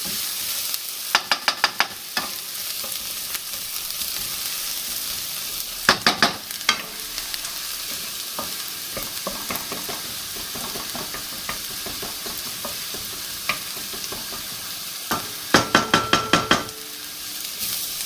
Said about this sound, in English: There's hardly a better smell than frying onions.